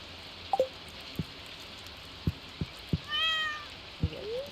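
A cat in the video game Stardew Valley gives a single short meow among scattered soft taps and thuds, with no talking.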